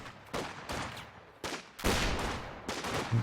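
Infantry support guns firing in the World War II strategy game Company of Heroes 2, a string of loud, sharp bursts and booms spaced unevenly through the battle noise.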